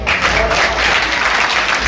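Audience applause from a crowd at a talk, steady dense clapping that fills the whole moment with no voices over it.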